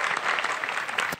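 Applause from a large crowd of young people at a university campus welcome event with the mayor: a brief, dense burst of clapping, loud and continuous.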